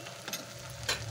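Ground turmeric, dried chilli, coriander and cumin fry in a pan for a fish and cucumber curry, giving a steady close sizzle with a couple of brief scraping stirs.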